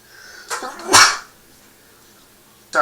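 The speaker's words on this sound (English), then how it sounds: "Sorry, I had to sneeze." A person sneezes once, sharp and close: a short intake then an explosive burst, followed by quiet and a brief noise at the end.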